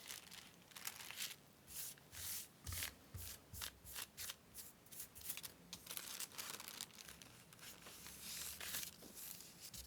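Gift-shop tissue paper is crinkled and rustled by hand in quick, irregular bursts, close and crisp against a quiet background, without any talking.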